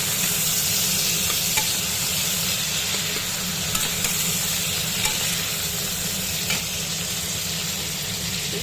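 Salted tomatoes sizzle and crackle loudly in a hot pan, a dense continuous frying hiss with occasional soft stirring clicks and no talk.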